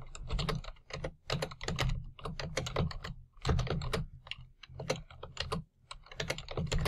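Rapid typing on a computer keyboard, close and clear, comes in quick bursts of clicking keystrokes separated by short pauses, with no voice over it.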